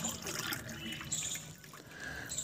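Red water from steeped beetroot peels, a homemade plant fertilizer, is poured into a glass, a soft, faint continuous trickle with small splashes, close by and quiet.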